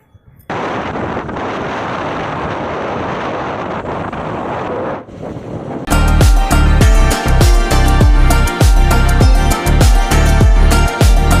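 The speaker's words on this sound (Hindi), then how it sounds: "अभी थोड़ा अच्छी हवा चल रही है" Strong wind blows steadily across a microphone outdoors by fields inside a residential society in India. The roar is loud and continuous, then it gives way to louder, rhythmic, buffeting gusts.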